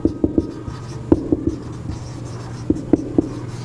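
Pen scratching and tapping on paper while a physics numerical on refractive index is worked out, a series of short close strokes in irregular clusters with no talk.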